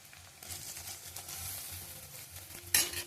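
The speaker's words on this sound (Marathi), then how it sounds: "आता मी कांदा टाकून घेते त्याच्यामध्ये" Onion added to a hot pan with garlic and grated ginger for fried rice, a soft close sizzle with light stirring scrapes that swell into a louder burst of frying near the end.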